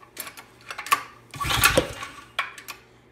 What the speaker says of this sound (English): backfire again